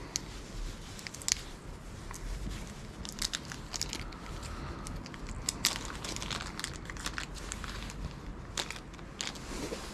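Small plastic bag of screws being handled and fumbled with, a string of crinkling and rustling bursts over a steady background hum, close and fairly quiet.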